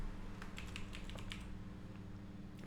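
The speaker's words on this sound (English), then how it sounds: "I will type this one also." Quick typing on a computer keyboard, a short run of close, light key clicks in uneven bursts that fades out, over a low steady hum with no talk.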